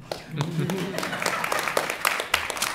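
An audience claps at a school committee meeting, a scattered patter of hands that swells irregularly over a couple of seconds while a voice speaks briefly at the start.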